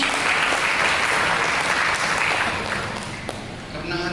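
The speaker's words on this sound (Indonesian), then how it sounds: "Mari kita berikan tepuk tangan bagi Yesus." A church congregation at a Christmas sermon breaks into sustained, dense applause that fills the room, tapering slightly toward the end.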